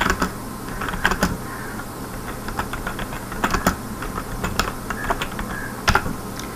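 Typing C code on a computer keyboard, irregular clusters of close keystrokes with brief pauses between bursts over a faint background hum, no voice.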